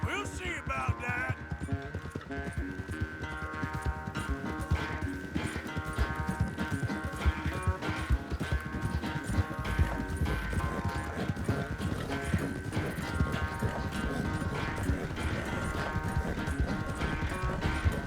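A horse's hooves clip-clop steadily through a Red Dead Redemption 2 ride, mixed with music and ambient game sound.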